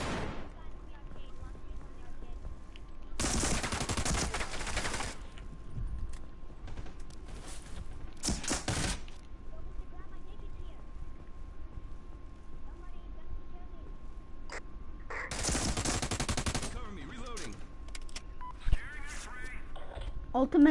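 Bursts of gunfire from a first-person shooter game, two long dense volleys separated by shorter shots and a steady tone, with players talking over the action.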